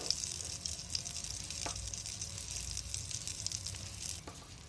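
Rava-coated halibut fish fries in hot oil with a steady, soft sizzling hiss and occasional faint pops and clicks, close by with no talking.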